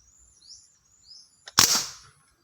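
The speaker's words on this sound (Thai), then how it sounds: "ขึ้นไกล แล้วก็ยิงเลยนะครับ" A pellet air rifle fires a single sharp, cracking shot after a few faint mechanical clicks, close and otherwise quiet.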